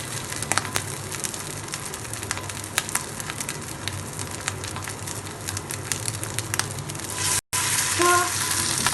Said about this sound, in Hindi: इसके अंदर आप कबाब डालेंगे 1 बाय 1 करके।